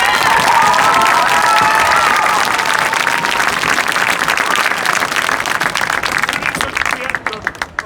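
A crowd applauds and cheers for student performers at a community show, with loud, dense clapping, whoops and shouts up front that gradually thin into scattered claps.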